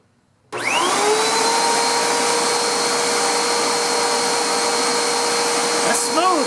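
A vacuum cleaner switches on and runs with its roller brush spinning after a repair of a non-spinning brush and smoking belt; a loud, steady whine starts abruptly and holds close and continuous without talk.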